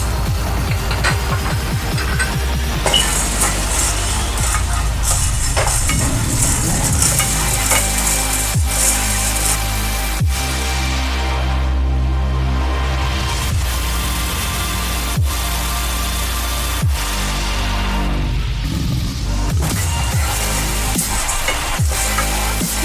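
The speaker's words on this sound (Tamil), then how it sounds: "அடுத்து நம்ம கடலைப்பருப்பை வறுத்துடலாம்" Chana dal (Bengal gram) dry-roasting in a pan gives a steady, loud, gritty rattle and hiss as the lentils are stirred, with frequent clinking scrapes of the spoon against the pan throughout.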